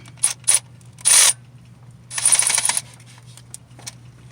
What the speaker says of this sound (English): I'm just going to bolt down the bottom bolts for this one.